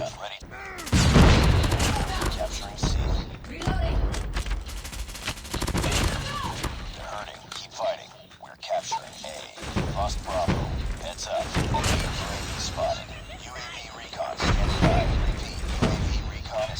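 Rapid gunfire in Call of Duty Mobile ranked play, repeated bursts of automatic shots and booming impacts nearly continuous, with someone talking over the shooting.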